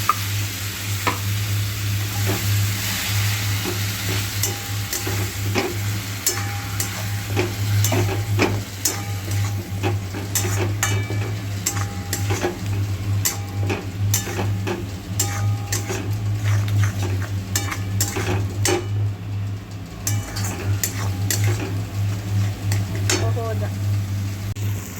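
Spices and tomato paste fry in a pan for a cauliflower keema with peas, giving a continuous close sizzle with intermittent stirring clinks and scrapes, plus a low steady hum underneath.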